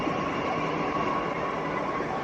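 A Delhi metro train rolling along, a steady loud rumbling roar heard from on board with no distinct clacks and no voices.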